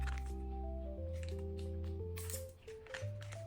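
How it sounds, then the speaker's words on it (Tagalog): Wet cat food of sardines, mackerel and tuna in gravy and jelly being mixed, giving soft, squishy stirring sounds under steady background music. "Haluin ko na yung sardines, mackerel, and tuna."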